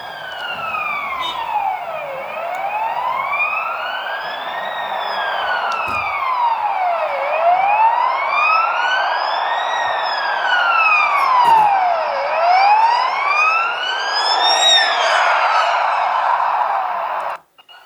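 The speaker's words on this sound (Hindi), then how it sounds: "ये जो सायरन था एम्बुलेंस का, ये पहले तो बहुत ही फेंट था" An ambulance siren wails, rising and falling in long sweeps, steady and loud throughout, as the ambulance passes with road noise beneath, then cuts off abruptly at the end.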